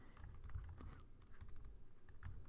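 Computer keyboard typing while someone writes Python code: a steady run of quick, uneven key clicks with short pauses, quiet and close, no talking.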